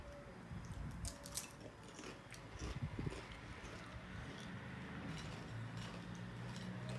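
People chewing and biting into snacks during a cheap versus expensive taste test, with soft crunches and wet chewing up close, strongest around the first few seconds before fading into a quieter background.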